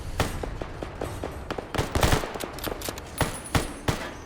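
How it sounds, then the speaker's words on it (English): Gunfire in Fallout: New Vegas crackles in scattered sharp shots and short bursts, fairly close, in an irregular rhythm over a quiet background. "I think they're just shooting at Sonny."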